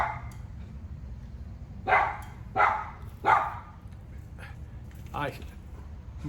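A pet dog named Heidi barks three times in quick succession, loud and close, then gives a softer fourth bark after a pause, over a low background hum.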